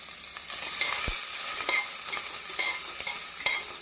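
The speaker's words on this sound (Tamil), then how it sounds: "முந்திரி பருப்பு பொன்னிறமாக ஆனவுடன் நாம் நறுக்கிய வெங்காயத்தை போட வேண்டும்." Chopped onions and cashews frying in a pan for tomato rice, a continuous soft sizzle broken by a few scraping stirs of the spoon, close up with no talking.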